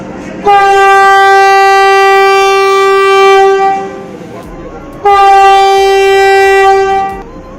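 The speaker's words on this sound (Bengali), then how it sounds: "মোটামুটি ট্রেনটা ছেড়ে দিচ্ছে" A Vande Bharat Express train sounds two long, loud horn blasts as it departs, each held for a few seconds, with a brief pause between and a low rumble of the moving train underneath.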